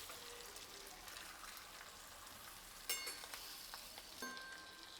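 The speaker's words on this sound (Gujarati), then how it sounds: "હળવા હાથે મસાલો ઉપર નીચે કરી અને મિક્સ કરી લેશું" A spoon stirs spiced stuffed tomatoes in a pan, with a faint, steady sizzle and a couple of soft clinks, very quiet overall.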